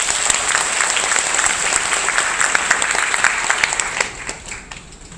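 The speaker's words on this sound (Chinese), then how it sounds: "那我们再次用掌声来欢迎他们" Audience applause fills a saxophone ensemble joint concert at the Taichung Dadun Cultural Center, a dense, steady ovation of many hands that holds strong for four seconds and then tapers off toward the end.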